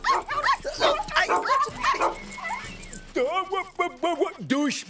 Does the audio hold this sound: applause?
no